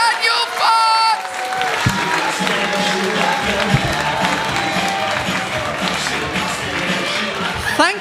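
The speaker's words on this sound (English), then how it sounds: "Josh, start the applause. Start the cheering." Audience applause and cheering at a live stage show, a dense, steady roar of clapping and crowd noise that holds at full strength from start to finish.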